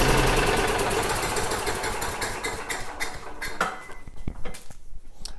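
An old Craftsman yard vacuum's small engine runs loud and steady, then sputters and dies out over the last seconds into irregular knocks and rattles.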